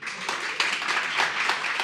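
An audience claps along at a live storytelling talk, a steady dense patter of hands lasting under two seconds with no voices on top.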